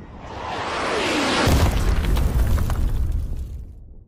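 A loud bomb explosion in a battle-royale style video game bursts out, a rising roar swelling into a heavy boom with crackling debris that holds steady before fading away, with no voices over it.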